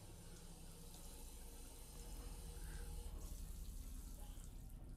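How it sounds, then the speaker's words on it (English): A bathroom water tap runs steadily in a continuous faint wash of flowing water, with no voices over it. "a tap turns on"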